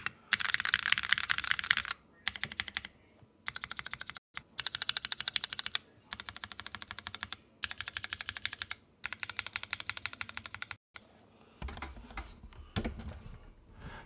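Bursts of fast typing on a custom Geon F1-8X mechanical keyboard with lubed, spring-swapped, filmed switches, crisp close clacks in several runs separated by brief pauses, then softer handling noises at the end.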